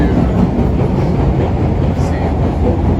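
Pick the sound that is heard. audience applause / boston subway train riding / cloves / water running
boston subway train riding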